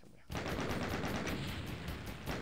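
Rapid automatic gunfire from the video game Doom, a dense, sustained burst of shots that starts abruptly and keeps a steady rhythm, loud and close, with no talking over it.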